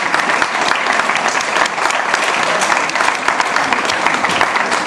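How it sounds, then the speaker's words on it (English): Sustained applause from an audience honoring hospital volunteers at Littleton Regional Healthcare, many hands clapping steadily and close, with no talk over it. "So can we give them all a hand round of applause?"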